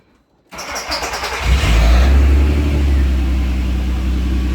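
An Audi TT 3.2 engine cranks and catches after an alternator replacement, a sudden start from silence that settles into a loud, steady low idle rumble close by.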